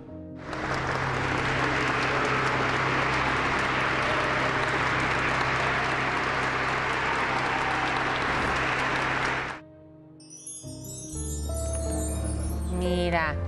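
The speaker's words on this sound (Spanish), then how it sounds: "le rindieron un minuto de aplausos a Tina Galindo" A large crowd at a memorial mass for Tina Galindo gives sustained, loud, dense applause for about nine seconds, which stops abruptly before music starts.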